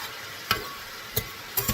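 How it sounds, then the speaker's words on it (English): Spaghetti meat sauce with minced garlic being stirred in a pot, a soft low sizzle under a few sharp spoon scrapes and taps against the pot, close and quiet, no voices. "So then you want to mix all this up nicely."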